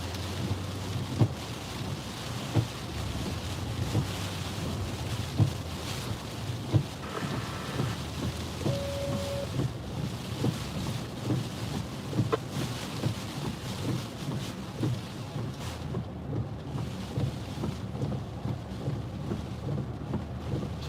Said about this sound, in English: Starting to get some rain and wind now.